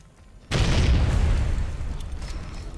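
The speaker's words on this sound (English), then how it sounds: "These incendiary grenades are honestly pretty good. The burning fire they do is actually pretty clutch." Incendiary grenade blowing up in the Fallout New Vegas video game, set in a cave: a sudden loud boom followed by a long roaring, crackling burst of fire that slowly fades, with no talk.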